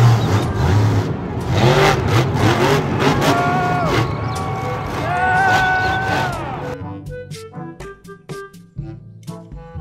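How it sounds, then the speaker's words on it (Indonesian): A toy monster truck's revving engine sound plays loudly and continuously for several seconds, with harmonic whines rising and falling, before giving way to sparse clicks and clatter from handling toys. "Mobil truk monster."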